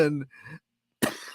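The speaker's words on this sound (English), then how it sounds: "I laughed myself into a cough." After some laughter, a man gives a single short, harsh cough, close and abrupt, following a brief spoken word.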